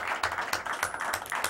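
Studio audience applause greets a returning guest on a late-night variety show, a dense, steady patter of many hands clapping with a few sharper individual claps standing out, sustained and fairly close throughout.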